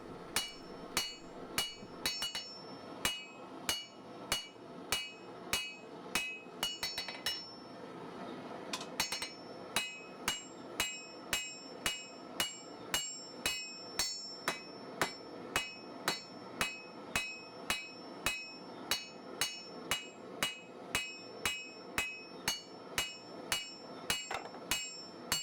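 A blacksmith hammers a steel bar on the anvil, drawing it out in a long, steady run of ringing metallic blows, close and loud, with a short pause partway through before the rhythm resumes.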